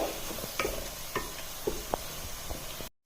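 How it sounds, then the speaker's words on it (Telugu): Tomato puree fries in a pan with a faint, continuous sizzle and scattered soft scrapes and taps of a spoon stirring, heard up close and quietly with no voices. "ఇప్పుడు టొమాటో ప్యూరీ వేస్తున్నాను. ఇది కాసేపు ఫ్రై చేసుకోవాలండి."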